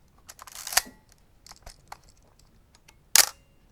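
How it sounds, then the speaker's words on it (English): Quiet mechanical clicks and handling of an EXA or Praktica film SLR camera, then a sharp clunky shutter snap near the end, close and crisp against a hushed background. "It's a bit of a clunky old shutter sound."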